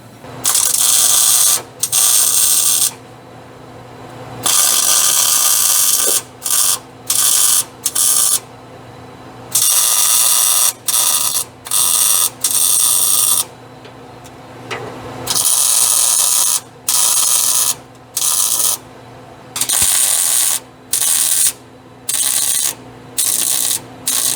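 Welding a bowed steel piece, loud bursts of crackling arc noise broken by short pauses, repeated in stop-start runs through the whole stretch.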